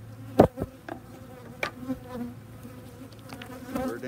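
Honeybees fill an open brood section of a hive with a steady, close buzzing hum, with a few sharper knocks and clicks from handling the frames. No one speaks.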